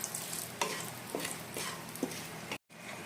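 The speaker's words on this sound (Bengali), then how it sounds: "এখন এটা 1 মিনিট ভালোভাবে ভেজে দেবো।" Whole peppercorns and cardamom pods fry in hot oil with a steady soft sizzle, stirred with a few light spoon taps, close up, ending with a sudden brief cut to silence.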